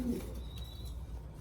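Domestic pigeons in a loft coo softly and at a distance under a steady low background rumble, with a faint high tone running through.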